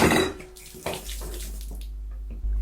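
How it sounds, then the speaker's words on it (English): Water spills and splashes in a short loud gush that quickly fades into trickling and dripping, ending in a low steady hum. "I just spilled water"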